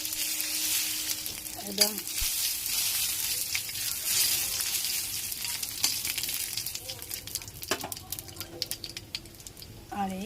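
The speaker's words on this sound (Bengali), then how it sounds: "এবার ফোড়ন দেব। ডালটা করবো, ফোড়ন দেব জিরে, তেজপাতা, শুকনো লঙ্কা" Cumin, bay leaf and dried chilli sizzle and crackle in hot oil in a home kitchen, with the frying hiss continuous and close, a few clinks of utensils, and a brief spoken word.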